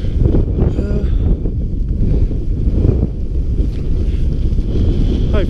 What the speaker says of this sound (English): so just very windy